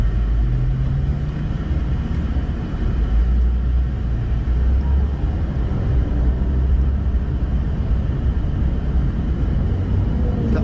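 A Porsche 911 GT3 of the 991.2 generation lapping the Val de Vienne circuit produces a constant, loud rumbling engine drone that holds steady throughout without pauses, and no one speaks.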